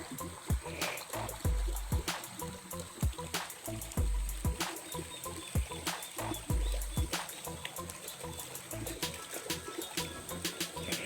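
Water trickles and babbles in a small river beside rice terraces on a mountain slope, a soft continuous flow broken by sharper splashy knocks and occasional bird calls, fairly quiet with no talking.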